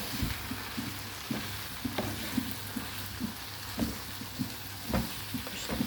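Chopped mushrooms frying in a pan are stirred, giving soft repeated scraping and shuffling strokes over a steady low sizzle, close and alone without voices.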